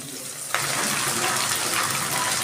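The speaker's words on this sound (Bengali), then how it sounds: "দিচ্ছি বাটিটা ধুয়ে সামান্য একটু জল" Running water gushes from a tap as a bowl is rinsed while cooking shukto, a steady splashing flow that starts abruptly and continues loud and close.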